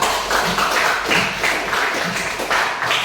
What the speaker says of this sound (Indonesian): Silakan kasih tepuk tangan untuk kita semua